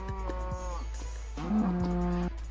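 A cow in the video game Minecraft moos twice, two drawn-out low calls over a steady game background hum, with no talking.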